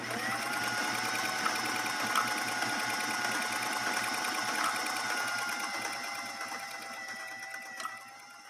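A 1960s Singer 503A sewing machine runs steadily, stitching with a continuous fast mechanical whir and rattle that holds even before easing off near the end, with no talking.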